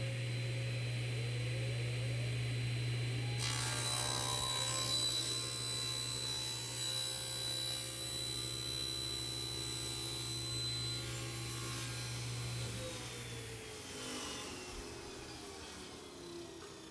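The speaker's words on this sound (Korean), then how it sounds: "이 상판을 완전히 자르지는 않고 상판 끝에 한 10cm 정도만 남기고 이것을 잘라 보겠습니다." A table saw cuts partway through the wooden top of a crosscut sled, a loud continuous blade whine with the motor hum running throughout and the cut winding down near the end.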